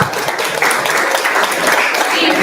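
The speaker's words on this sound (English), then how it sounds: "clap for him." Audience applause at an indoor English-proficiency and study-abroad session, a steady dense wash of clapping that holds fairly loud for the full stretch.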